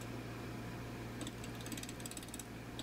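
Spruce burl blank on a wood lathe spun slowly by hand, giving a steady low mechanical hum with faint ratcheting clicks and light rattles scattered throughout, close and continuous with no talking.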